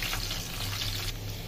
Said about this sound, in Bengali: এই যে ডিমগুলো ভাজা হচ্ছে